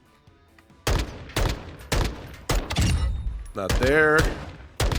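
Rifle fire in the Modern Warfare II video game firing range, sharp close shots in short bursts spaced through the clip, with someone talking between and over the shots.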